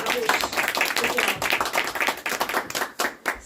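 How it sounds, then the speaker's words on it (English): A small audience at a Gita recitation competition for adults and kids gives a participant a round of brisk, uneven hand clapping, close and moderately loud, with some voices mixed in. "Give a round of applause to Arush."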